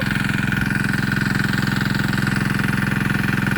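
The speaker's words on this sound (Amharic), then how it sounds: "የውሃ ሞተር ይኸውላችሁ" A farm water pump motor irrigating a maize field, running with a steady, loud, rapidly pulsing engine drone close by.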